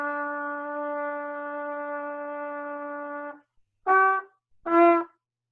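A single instrument sustains one steady tied E for about three and a half seconds, then plays two short detached notes after a brief pause, clear and alone with no voices.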